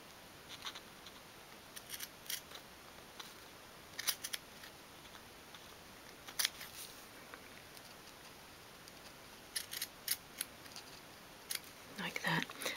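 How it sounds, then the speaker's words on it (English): Scissors snipping fabric while upholstering a 1/12 scale dolls house sofa, a series of quiet, crisp clicking cuts in scattered clusters, close-up against a soft background hiss. "we're going to snip up from the bottom of the fabric to the corner"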